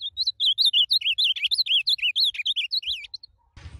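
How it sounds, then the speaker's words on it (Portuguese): An ultramarine grosbeak sings a rapid, loud warbling phrase of sweeping whistled notes, clear and close, ending with a brief rustle. "não tem como o seu azulão não cantar alto"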